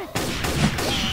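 Gunfire in the video game Left 4 Dead 2 comes as a dense, loud burst of overlapping shots with no pauses between them, close and harsh, filling the whole moment.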